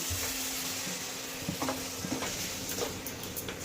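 Paneer is stir-fried in a pan with onion, green chillies, ginger and garlic, giving a steady close sizzle with a few light clicks from stirring.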